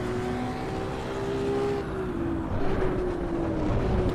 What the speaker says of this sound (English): I can hear the carbs